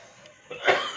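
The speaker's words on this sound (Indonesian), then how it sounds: "Tetangga kita batuk." A single short cough bursts out near the end, close by, after a moment of quiet background.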